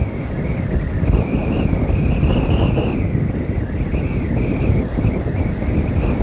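Strong wind blast buffeting the microphone on an Apache 160 motorcycle ride from Sivakasi toward Kanyakumari, a loud, steady roar with engine drone underneath that carries on throughout without a break.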